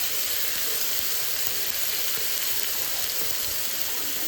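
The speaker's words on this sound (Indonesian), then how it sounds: "Ini minyaknya masih panas ya, dan ini dia sambalnya." Sambal chili paste frying in still-hot oil while making anchovy and tofu sambal, a steady dense sizzle that holds evenly loud and close throughout.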